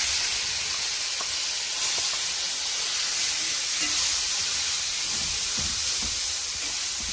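A ground paste dropped into hot oil tempered with asafoetida, a loud continuous sizzling hiss that stays close and steady, with faint clinks of a utensil and no voices.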